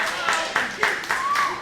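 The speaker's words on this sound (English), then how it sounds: "The crowd approves." A crowd at an independent wrestling match claps in rhythmic bursts, about six sharp claps at a steady beat, with a commentator talking over them.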